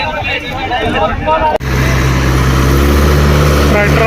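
A tractor engine runs close by on a Sutlej river embankment, with a low, steady chugging rumble that starts abruptly after a brief click and holds loud to the end.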